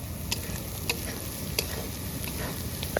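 A curry masala for river rohu fish sizzles steadily in hot oil as it is sautéed, with a constant frying hiss and occasional light clicks of a spoon stirring the pan.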